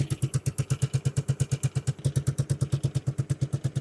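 A cold-started Royal Enfield Bullet 500 single-cylinder motorcycle idles with a slow, even thump and mechanical clatter, each firing pulse distinct and close, running steadily throughout without speech.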